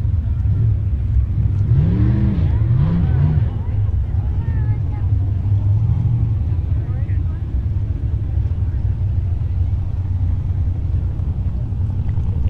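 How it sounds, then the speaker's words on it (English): Mazda Miata fitted with a 2013 Chevy LS3 V8 accelerating at a drag strip, a loud deep rumble that climbs through revs early on, then a long steady roar with some crowd or talk underneath. "Miata with a Chevy small block in it."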